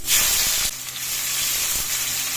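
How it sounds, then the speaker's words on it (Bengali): A bay leaf, whole garam masala, cumin seeds and chopped onion drop into hot oil for a fish omelette curry, setting off a loud, bright hissing sizzle that settles into steady frying. "তেলটা গরম হয়ে গেছে, দিয়ে দিচ্ছি একটা তেজপাতা, গোটা গরম মশলা, গোটা জিরা, পেঁয়াজ কুচি"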